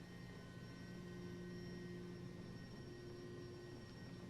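Bell 429 helicopter in X-Plane 11 flying gently toward a helipad while descending, a steady continuous engine and rotor drone with sustained tonal whine, no talk.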